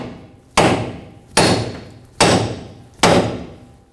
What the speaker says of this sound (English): Tap it with a hammer right here.